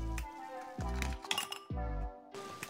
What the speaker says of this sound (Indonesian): Setelah itu, tambahkanlah es batu secukupnya.